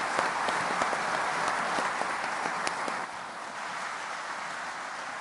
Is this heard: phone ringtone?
no